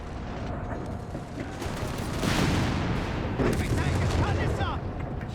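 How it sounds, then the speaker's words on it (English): A 75mm cannon shells infantry in Company of Heroes 3, heavy booms and gunfire rumbling in the mid-distance, under a speaking voice. "They are bombarding the American infantry with its 75mm cannon."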